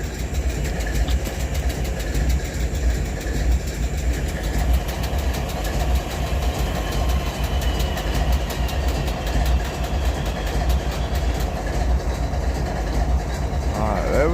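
A freight train rolls steadily through Abbeville, its engine drone and wagon rumble holding loud and continuous from start to finish.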